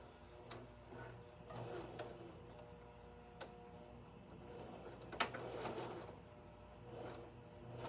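A home sewing machine back-stitches a seam on an up-cycled shirt, giving a faint, quiet run of rapid ticking needle strokes with a few soft clicks and bumps in between.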